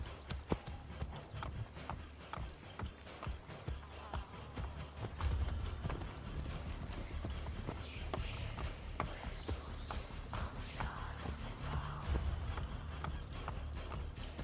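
Horse hooves clip-clop at a steady trot through the streets in Assassin's Creed Brotherhood, a continuous, fairly loud rhythm with an occasional whinny and game ambience underneath.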